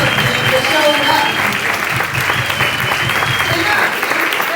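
Loud, sustained audience applause at a symposium in Miami, dense clapping filling the room evenly from start to finish, with a voice speaking over it.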